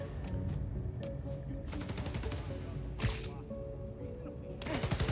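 Gunfire in the video game Spider-Man: Miles Morales, bursts of rapid shots and a sharper crack with a whoosh, over a constant low game soundtrack at moderate loudness.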